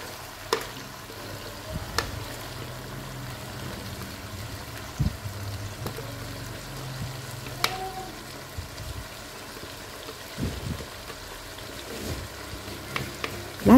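A thick peanut sauce with blended peanuts sizzles softly in a frying pan while a utensil scrapes and stirs through it, with occasional louder taps against the pan.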